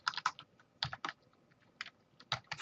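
Short bursts of computer keyboard typing as a file name is entered, quick clusters of close, fairly quiet key clicks with brief gaps between them.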